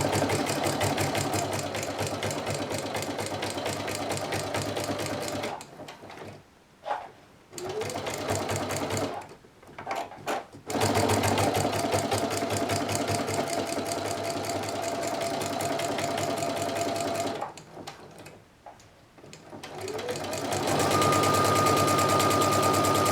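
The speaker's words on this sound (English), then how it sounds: "I always sew over my pins" A sewing machine stitches plush fabric straight over pins, a close, fast mechanical rattle in several bursts separated by brief quiet pauses, then picking up again near the end.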